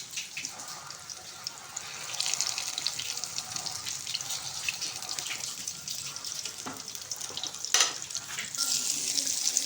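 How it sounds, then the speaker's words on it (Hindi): Eggplant slices fry in a pan with a constant bright hiss of bubbling oil, a fairly quiet and even sizzle that rises slightly in the second half. "ये देखिए अब हम इसमें फ्राई कर लेंगे।"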